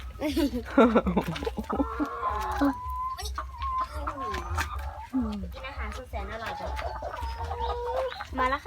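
Laying hens cluck and squawk close by in a farmyard, with a busy run of overlapping calls, while people talk over them and a low steady hum runs underneath.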